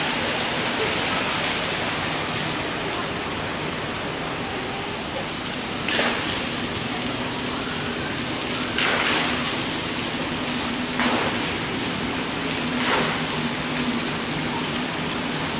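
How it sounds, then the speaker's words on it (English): Water jets spraying across the aqua park water slides on the MSC Meraviglia cruise ship, a steady loud hiss of splashing water with a few brief surging bursts. "They have like a water recreation area with a little mini pool, water shooting everywhere."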